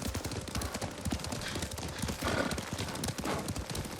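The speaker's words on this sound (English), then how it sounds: "Lord Sakai taught me to ride a horse." Steady clip-clop of horse hooves at a riding pace in the samurai video game Ghost of Tsushima, continuous and fairly close throughout with no talk.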